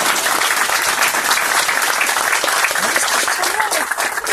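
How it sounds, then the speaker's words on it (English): Vigorous audience applause for a student association's administrative vice president at an Ecuadorian cultural celebration, loud and sustained throughout, with faint voices mixed into the clapping. "I would like everyone to please give a nice round of applause to our Administrative Vice President, Andrew Ecuadorian"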